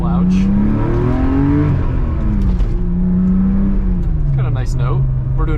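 A 1990 Porsche engine runs steadily while driving at about 40 mph, a loud continuous low drone with shifting pitch throughout, and someone talks over it.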